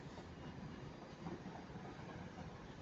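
Trains at Manchester Piccadilly station, including ex-West Midlands Class 323 electric units departing: a faint, steady rolling rumble of railway wheels and carriages, distant and continuous with no voices.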